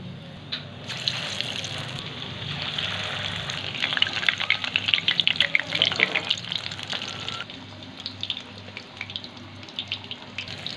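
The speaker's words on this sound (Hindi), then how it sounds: "आप देख सकते हो कितने अच्छे से ये फ्राई हो रहे हैं।" Besan-coated chicken pieces fry in hot oil, producing a loud, continuous close-up sizzle and crackle that swells in the middle and then settles, with no voices.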